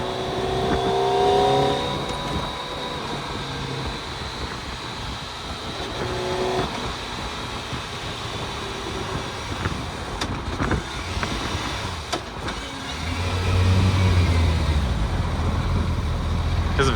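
A T-Rex three-wheeler accelerates, its engine note climbing at the start and surging again near the end, with road and wind noise in between.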